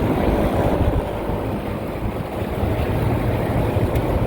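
AC condenser fan motors whir alongside a compressor drawing high current, a steady broadband rush with a low hum that dips briefly and returns.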